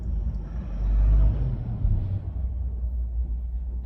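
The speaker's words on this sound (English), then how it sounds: "there's a big truck" A big truck rumbles past close by at roadside, a loud low drone that swells and fades over a few seconds.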